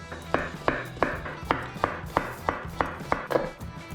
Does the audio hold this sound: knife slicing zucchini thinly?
yes